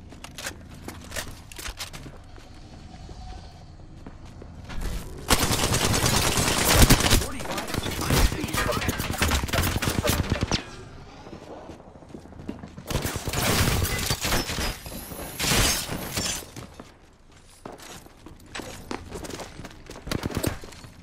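Bursts of gunfire in a battle royale video game, dense loud volleys in two main stretches with scattered shots between, near and sustained, with no talk.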